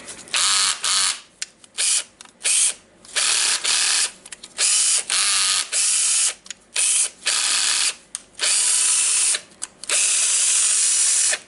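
A Hitachi DS12DVF3 cordless drill whirs in repeated short bursts after its slipping gear assembly was repaired, about a dozen trigger pulls with brief gaps between, close and loud with no speech.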